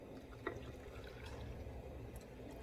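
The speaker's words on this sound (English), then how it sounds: "then we just fill it with our brine" Brine poured into a jar packed with kosher dill vegetables, a soft steady trickle of liquid with a few faint drips, quiet and close.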